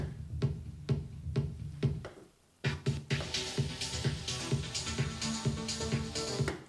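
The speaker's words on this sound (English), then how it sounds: "Techno's pretty much like just beats. It's very percussive." Driving percussive techno beats with punchy kicks and crisp hi-hats repeat steadily, a brief break dropping out before the loud pattern returns.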